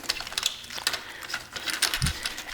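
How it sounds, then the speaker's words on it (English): Small screws being unscrewed from a Honda S800 gauge cluster with close, light metallic clicks and ratcheting ticks in an uneven rhythm, plus one soft low thump near the end. "We're unscrewing it."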